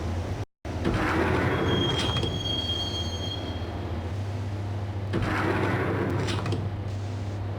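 A subway train rides through the Max Payne video game, a loud, continuous rumble of railcars with high metallic wheel squeals rising and fading over it, and no voices.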